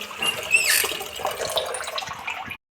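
Tap water runs steadily over fresh cauliflower being washed in a sink, a close, constant splashing rush that cuts off abruptly near the end.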